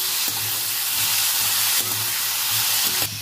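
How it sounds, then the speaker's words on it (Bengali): Kohlrabi pieces frying with turmeric in a pan give a steady, close sizzle that runs unbroken, with faint stirring scrapes and a brief dip near the end. "ওলকপিটা যেটা কেটে ধুয়ে রেখেছি দিয়ে দেবো, হলুদ দিয়ে দেবো, ভালো করে ভেজে নেবো, একটু লাল করে ভাজবো।"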